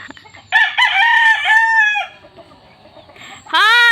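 A rooster crows loudly and close by in a long drawn-out call, then breaks off, with quieter chicken clucking around it; a second crow starts at the very end.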